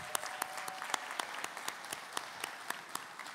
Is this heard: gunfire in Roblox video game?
no